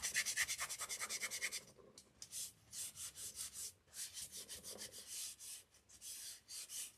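Resin being rubbed by hand into a wooden bee-themed tiered tray, a soft repetitive scrubbing that is quick and even at first and then turns into slower, uneven strokes, close and fairly quiet with no talking.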